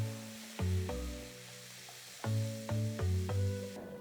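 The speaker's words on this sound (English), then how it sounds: "Saute the onions till they're a nice golden brown color." Onions and tomatoes sizzle steadily while sautéing in a pan, a soft frying hiss running under louder melodic background music.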